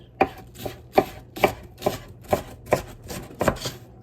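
Knife dicing red onion on a cutting board while making minestrone soup: eight crisp, evenly spaced chops, each a sharp thud, close and clear with no talk.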